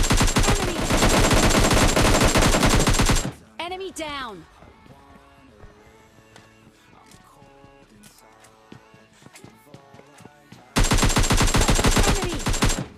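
Gunfire in the PUBG Lite video game, with long loud bursts of rapid automatic shots at the start and again near the end, separated by quieter game sounds and faint tones.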